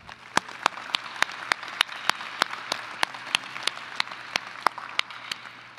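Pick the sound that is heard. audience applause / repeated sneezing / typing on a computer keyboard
audience applause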